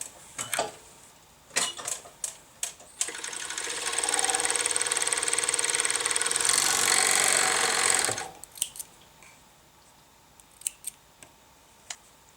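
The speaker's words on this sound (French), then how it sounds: "je vais coudre une ligne droite jusqu'à arriver au fond" A sewing machine stitching a straight seam down a double-thread thong: a steady mechanical whir runs for about five seconds, bracketed by scattered clicks and snips of handling fabric and scissors, close up and with no voices.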